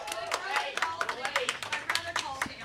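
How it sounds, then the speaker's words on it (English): A small group claps for Jay Payne in a podcast setting, giving quick, uneven bursts of handclaps that stay close and moderately loud for a few seconds. "Everyone, applaud Jay Payne."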